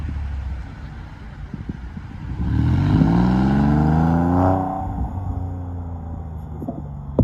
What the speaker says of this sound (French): on va voir toutes les voitures qui repartent vers le circuit